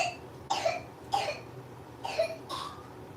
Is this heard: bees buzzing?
no